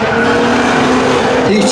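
A street-legal drag racing car does a smoky burnout at a spectator drag event, its engine roaring loud and close with a steady tire squeal throughout, while an announcer talks over it.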